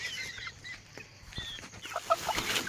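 Chickens cluck and murmur in short, scattered calls close by, in a quiet rural setting where birds are being caught for sale.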